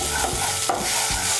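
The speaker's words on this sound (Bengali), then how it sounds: "আমি পটল বাটাটাকে আরেকটু ভালো করে ভেজে নেব।" Pointed gourd paste frying and being stirred in a wok, with a steady sizzle broken by a few soft scraping strokes of the spatula.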